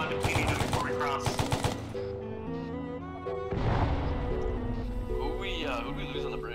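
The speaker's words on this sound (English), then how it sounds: "Set up base fire, set up base fire at the bridge." Machine gun fire crackles in loud bursts at the start of a battle in a video game at a bridge, then continues as steadier fire mixed with tonal music and voices.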